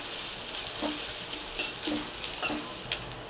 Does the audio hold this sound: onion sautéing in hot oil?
yes